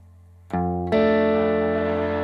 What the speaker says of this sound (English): on this side I'm putting a delay on the reverb and distorting it